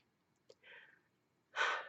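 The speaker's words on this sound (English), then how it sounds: "I gotta sneeze" A person sick with a cold sneezes once, a short breathy intake followed by a sharp, loud burst close by, with no talking.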